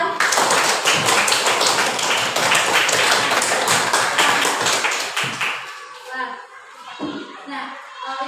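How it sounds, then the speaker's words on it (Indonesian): Classroom applause from students in a lesson, a loud, steady patter of many hands clapping that fades out over the last few seconds as children's voices and a teacher's speech take over. "Kasih tepuk tangan dulu"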